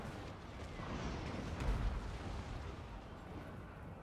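Dense, continuous rumbling of distant cannon and artillery fire in the video game Warhammer Total War, muffled booms layered together, steady and loud, faint voices mixed underneath.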